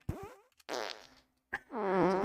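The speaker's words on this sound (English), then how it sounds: "I'm going to try to do as many farts as I can as quickly as possible." A person makes rapid fart sounds during a livestream, three short, loud, buzzy bursts with brief gaps, the last one longest and rumbling.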